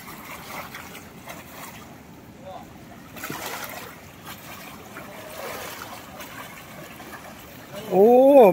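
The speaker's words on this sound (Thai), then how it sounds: "น้ำไหลแรงนะครับพี่น้องครับ" Strong current rushing through the Rasi Salai dam on the Mun River area, a steady broad wash of flowing water, rising louder near the end with a voice speaking over it.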